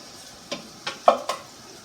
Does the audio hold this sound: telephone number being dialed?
no